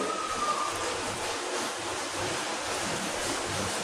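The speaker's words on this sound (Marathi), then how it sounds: "असं मी हे पाणी याच्यामध्ये घालून घेते" Hot water poured into a kadhai while cooking a thin drumstick curry, a steady broadband rush of flowing liquid filling the whole moment, close and fairly loud with no talk.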